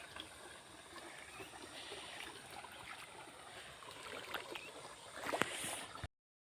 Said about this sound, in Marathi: मी हळूहळू पाण्यामधून जाते